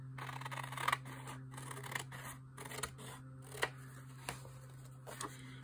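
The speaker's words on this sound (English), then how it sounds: "I'm also going to cut a little bit from the side." Scissors snip paper in a journal, with a run of quiet, close crisp cuts at irregular intervals over a faint steady electrical hum.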